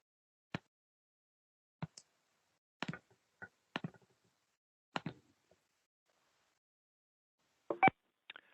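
Telephone keypad tones dial out to connect a caller-in at a public library commission meeting: about eight short, separate beeps with silent gaps between them, clear and isolated, with no voices.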